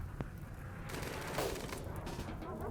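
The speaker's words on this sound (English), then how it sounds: "now we activate the turrets" Defensive turrets in RimWorld open fire in a rapid, sustained burst of gunfire, a dense crackle of shots with no pauses.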